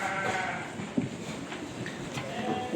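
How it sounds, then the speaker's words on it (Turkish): Sheep and fattening lambs bleating in a livestock pen, several overlapping bleats close by across a short stretch, with light background noise. "Koyunlar meliyor."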